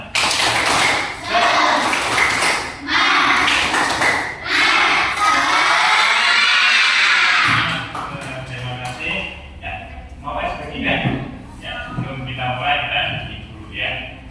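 A school class claps in a quick, patterned spirit-clap rhythm, with children's voices shouting and chanting along, loud and close throughout.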